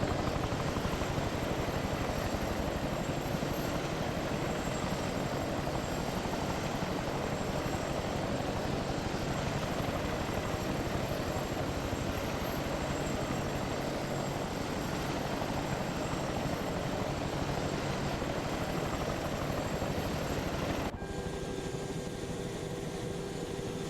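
Helicopter engine and rotor noise in the video game Arma 3, a steady loud broadband whine and thrum continuing for over twenty seconds with a brief shift near the end.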